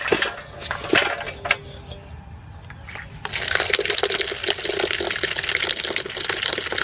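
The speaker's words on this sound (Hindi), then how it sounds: "तो देख रहे हैं बाल्टी में पानी भर देंगे" Water gushes into a bucket, filling it for rinsing jamun seeds; the splashing is fainter and patchy at first, then becomes a loud, continuous rushing pour for the last few seconds.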